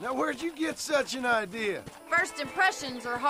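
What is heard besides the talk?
No distinct noise like a dog, phone or traffic.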